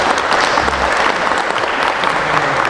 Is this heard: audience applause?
yes